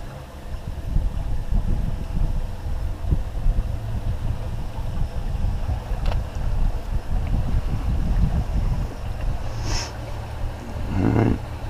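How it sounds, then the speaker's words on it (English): Steady, blustery wind roaring across the microphone on a solar-powered barrel boat camper on the water, a continuous low rumble that rises and falls, with a few faint clicks and a brief brighter rustle near the end. "Too windy, I don't know."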